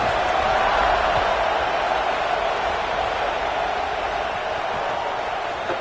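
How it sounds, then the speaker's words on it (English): Roaring stadium crowd at a college football quarterfinal, Oklahoma State versus SMU, a loud steady wash of massed voices filling the whole stretch with no pauses. "the crowd is making it really hard to communicate and hear each other right now down on the field"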